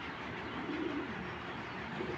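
Breeding pigeons coo softly in two short, low bursts, faint against a steady background hiss.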